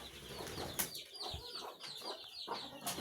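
A red rooster and hens kept in a coop cluck in short, irregular bursts close by, with a few sharper squawks and brief wing flutters.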